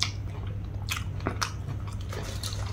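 A piece of Isan larb bitten and chewed up close, a handful of crisp crunching bites spaced apart over a low steady hum, with no talking.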